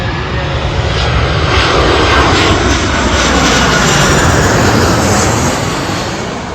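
A fixed-wing airplane roars overhead beside a busy NH66 road in Malappuram, a loud broadband engine rumble that swells and then slowly fades, heard alone without voices.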